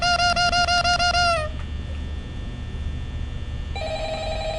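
An old-style telephone bell rings in rapid trilling bursts in Five Nights at Freddy's, loud and close, then breaks off into a quiet hum before a brief tone resumes at the end.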